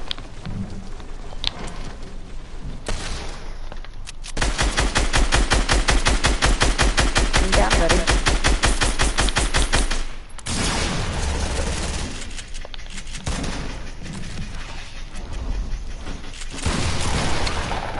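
Video game gunfire rattles in rapid automatic bursts, with a long dense string of shots in the middle and scattered shots before and after, loud and close.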